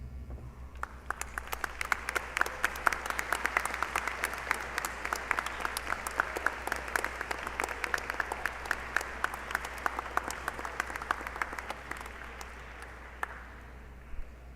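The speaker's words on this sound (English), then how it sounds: "please stand and give your parents, family, and teachers a round of applause for what they have done to bring you to this moment" Steady applause fills a graduation ceremony hall, with many hands clapping in a continuous, moderately distant wash that holds for several seconds before fading at the end.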